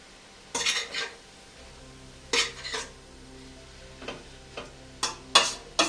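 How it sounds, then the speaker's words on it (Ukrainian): A spoon scrapes and clinks against a pot in short bursts while mushrooms and vegetables are stirred for mushroom soup, with a low steady hum of cooking underneath. "Перемішаю і додам грибочки."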